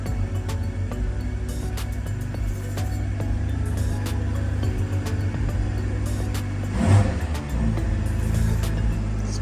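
A 2024 BMW M240i G42 with a newly fitted MST intake idles steadily up close, a deep continuous engine rumble with a slight swell near the end and no talk over it.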